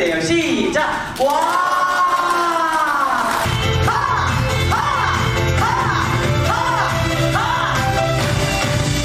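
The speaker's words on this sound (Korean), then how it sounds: "박수 칠 때 와 해주셔야 돼요." A hotel-ballroom audience at a laughter-therapy session for a separated-families day claps and shouts a long collective cheer, the crowd noise loud and sustained throughout, with an instructor's voice rising over the start.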